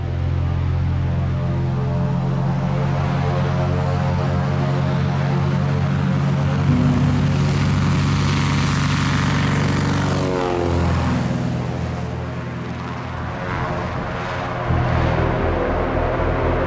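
Cessna 182 propeller engine roaring steadily at close range, a loud buzzing drone that swells and shifts in pitch midway as the aircraft moves on an airstrip.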